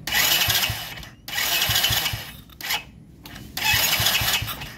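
A motorcycle engine fitted with a racing CDI cranks and fires in repeated loud bursts, each start attempt revving briefly before cutting out, with short pauses between tries and no talking.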